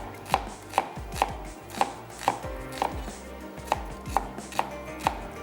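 A knife chops chicken into large chunks on a cutting board, with about a dozen steady, evenly spaced thuds, close and clear with no talking.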